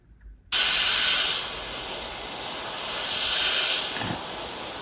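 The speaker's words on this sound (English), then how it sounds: "I will spray a couple more times" An airbrush spraying orange paint onto a 3D printed figure gives a sudden, steady, close airy hiss that holds evenly for several seconds, swelling slightly with each pass.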